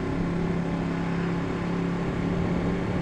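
A Ducati 1199 Panigale motorcycle engine runs hard with a steady, close, loud drone, the sustained revving of quick-shifted riding with no talk.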